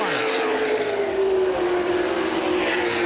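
Late model sportsman race cars roar around the oval at Winchester Speedway, a loud continuous engine howl with a pitch that slides slightly as cars pass through the corner and down the straightaway.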